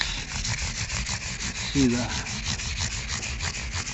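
Steady rubbing of 800 grit sandpaper across the frets on a kit guitar neck, a continuous close scratchy hiss with rhythmic back-and-forth strokes throughout.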